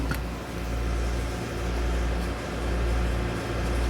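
An induction shrink-fit tooling machine heats a tool holder, giving off a steady electrical hum with a faint pulsing roughly once per second, continuous and moderately quiet.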